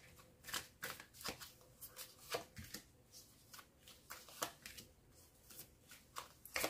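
Tarot cards being shuffled close up, a steady run of crisp riffling and slapping bursts in a quiet room, with no talking.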